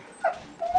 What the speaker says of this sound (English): my dog just wanted to go out so bad